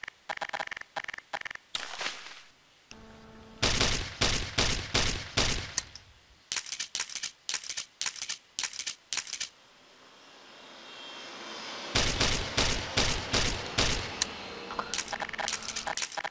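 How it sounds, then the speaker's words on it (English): Rapid bursts of grenade launcher fire in Garry's Mod, loud repeated thumping volleys in clusters, separated by short pauses and a swelling engine-like roar. "Cause I've been using a grenade launcher."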